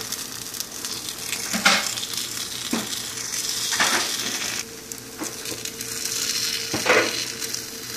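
Chettinad kuzhi paniyaram fry in a hot pan just after being flipped, a continuous close sizzle broken by a few sharp scraping clicks as each one is turned.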